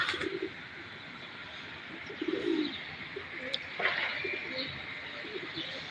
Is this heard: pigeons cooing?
yes